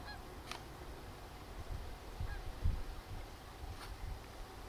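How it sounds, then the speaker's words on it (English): A lost goose honks a few scattered times near a cornfield, faint and distant over a steady outdoor background rumble, with no talking. "This goose is really confused about what it's doing."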